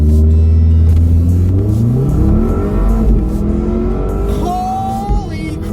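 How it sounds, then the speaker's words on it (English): 2018 Volvo V60 Polestar launching under launch control: loud, close engine roar climbs through the revs with rising whine, dips at a gear change, then pulls hard again, with a brief tire chirp near the end. "My first time ever using launch control in a car."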